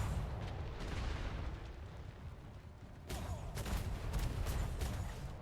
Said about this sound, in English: port side, mid-range. Fire on the brigantine.